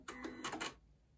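Janome Memory Craft 8200 sewing machine running its automatic thread cutter: a quick mechanical whirr and clicking burst lasting under a second, close and fairly quiet, then stopping.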